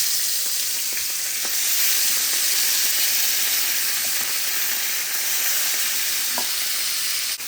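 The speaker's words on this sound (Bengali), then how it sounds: "তো এখন আমি সার্ডিন ফিশটা ভাজি করব" Sardines frying in a pan give off a loud, continuous close-up sizzle with occasional small pops and stirring clicks, heard alone without any voices.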